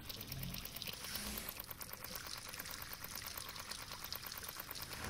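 Soda pours steadily into a toilet in the VR game Rick and Morty: Virtual Rick-ality, a continuous close splashing trickle that lasts throughout with no talk.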